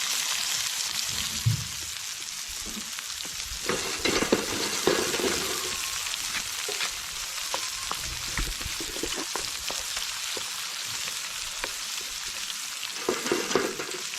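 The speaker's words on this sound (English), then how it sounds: "I'm just sauteing up the vegetables for about 2 minutes." Mixed vegetables with Scotch bonnet pepper sauté in a hot pan for a Jamaican ackee and saltfish meal, giving a steady soft sizzle throughout with occasional louder stirring scrapes and clinks, and no talking.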